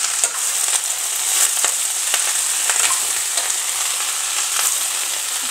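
Garlic and onion fry in hot oil for a Tamil lunch box dish, giving a steady close crackling sizzle with a few soft spoon scrapes throughout and no voices.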